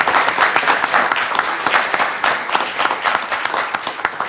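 Close, loud applause from an audience cheering elementary school presentations at a school district meeting, brisk overlapping claps from a modest crowd sustained for a few seconds.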